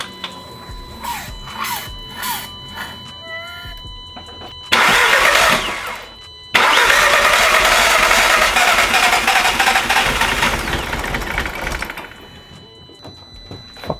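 A VW/Audi engine after carbon cleaning is cranked: chiming and whirring come first, then two loud starter bursts before it catches and settles into a steady idle that drops in level near the end.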